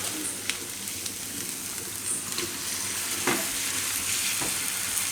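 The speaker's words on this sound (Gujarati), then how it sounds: "તો ટમેટાને અહીં આપણે થોડીક વાર પાકવા દઈશું. ગેસ ફૂલ જ રાખશું." Tomatoes with onion and ginger cooking in a pan over a full gas flame, a steady loud sizzle with occasional stirring scrapes, no voices.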